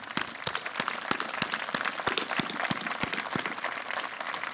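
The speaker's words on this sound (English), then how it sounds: "the audience would give them a round of applause" Audience at a 9/11 Day of Remembrance ceremony at the Minnesota State Capitol applauding, a sustained moderate patter of many hands with a few sharper claps standing out, no speech over it.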